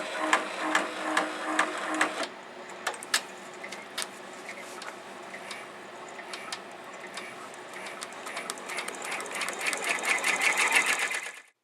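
An embroidery machine runs a tack-down stitch on a snowman stocking, a steady rapid mechanical ticking and whirring that starts and stops briefly early on, then continues evenly and grows slightly louder near the end.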